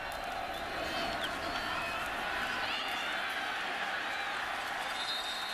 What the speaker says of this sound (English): And the cheer goes up from the Texas Tech rooting section